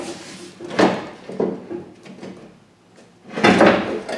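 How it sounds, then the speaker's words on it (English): Door glass from a 1970-81 Camaro is worked up and out of the door shell, giving close, loud scraping and rubbing bursts with a brief quiet pause between them. "glass should just come straight up out of the car."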